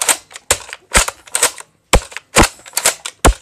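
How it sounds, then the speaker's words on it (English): A Nerf blaster being reloaded, heard as a loud, close series of sharp plastic clacks and snaps in an irregular rhythm, with brief gaps between them. "And how you reload it,"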